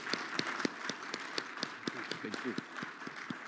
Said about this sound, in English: let me just ask the audience to join me in applauding you for this excellent conversation